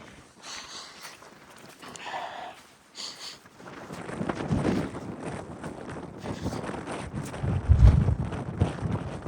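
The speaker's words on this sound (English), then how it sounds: "it's suddenly very windy up here." Strong gusting wind buffets the microphone on the open Lake District fells, with broadband roaring rising louder in the second half alongside faint footsteps and a little breathy voice.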